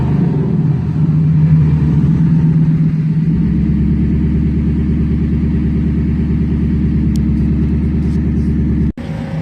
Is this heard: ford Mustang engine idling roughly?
yes